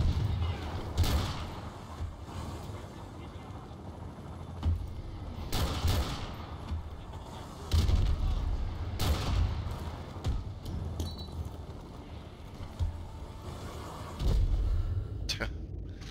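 Mortar blasts and rapid gunfire from the Call of Duty Modern Warfare 2 Remastered video game, a dense, continuous battle din with repeated heavy booming thumps every few seconds and steady crackling shots throughout.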